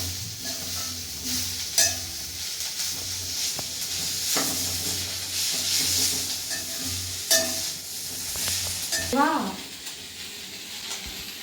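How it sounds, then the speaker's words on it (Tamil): Black pepper and cumin sautéing in a hot pan for mint thuvayal, a steady close sizzle punctuated by several sharp spatula scrapes and clinks against the pan, with a brief voiced sound near the end. "வதக்கிக்கலாம்"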